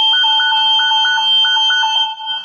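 A security system alarm goes off indoors, sounding a loud, steady high-pitched electronic tone with a rapid pulsing beep pattern layered over it, continuous and close with no voices.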